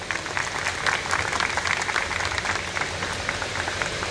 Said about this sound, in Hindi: भूपिंदर सिंह जी के लिए तालियां हो जाएं जी।